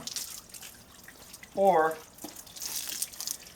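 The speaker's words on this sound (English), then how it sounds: "And you can just hose it off" Water from a hose runs and splashes over the O-ring groove of a Pentair Quad DE pool filter, a steady hiss with a brief spoken word in the middle.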